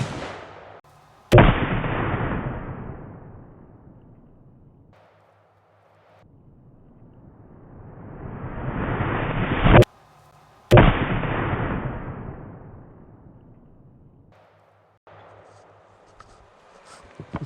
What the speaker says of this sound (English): Let's shoot one more shot.